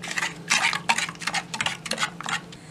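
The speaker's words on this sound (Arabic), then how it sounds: "وهنقلب كويس" A spoon scrapes and clinks around a pot of sahlab hot chocolate mixture with sugar and vanilla in a quick, repeated rhythm of about six strokes, close by and with no one speaking.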